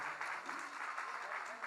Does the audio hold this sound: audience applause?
yes